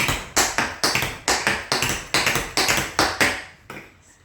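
Sharp tap-shoe cramp rolls in rolling groups of rapid strikes, falling into a steady drum-like rhythm, close and loud with no voices.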